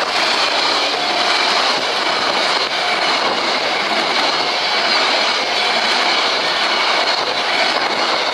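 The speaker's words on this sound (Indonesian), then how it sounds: "kereta api Probo di jalur 1 teman-teman" A long passenger train, the Probo, rumbles past steadily at close range on track 1 at a guarded level crossing, a continuous loud roar of wheels on rails with a faint clatter throughout.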